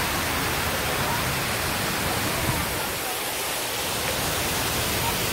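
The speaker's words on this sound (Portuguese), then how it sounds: "E aqui é o monumento das cachoeiras" Rushing water pours steadily at a waterfall monument in a city park in Houston, a dense, continuous broadband roar that stays level and close throughout with no pauses.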